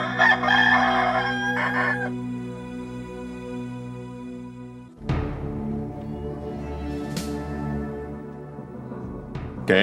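A rooster crows in a dramatized scene, with a long strained call that breaks off partway, then a second crow and clucking. No one talks over it.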